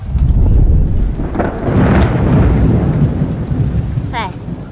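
Thunder booms and rumbles through steady rain in a period drama scene, the loud roll building and fading with a brief crackle near the end, and no speech.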